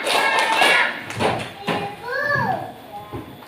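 Schoolchildren in a classroom clap out a short rhythmic pattern, a few sharp claps close by, mixed with children's voices and an adult speaking.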